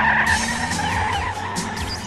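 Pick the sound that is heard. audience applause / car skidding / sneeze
car skidding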